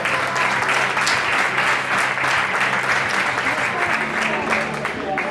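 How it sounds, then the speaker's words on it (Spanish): Steady, dense applause from an audience honouring a player at a women's all-star table football match in Lugo, loud and even from start to finish with a voice faintly beneath it. "Número 4, Nerea Rodríguez, do Frió. Forte aplauso."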